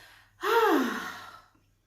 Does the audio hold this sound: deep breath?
yes